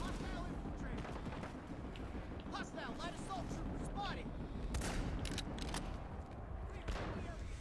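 Planetside 2 gunfire, with a dense rattle of distant and near shots and bursts under ongoing battle noise, while a player talks over the action.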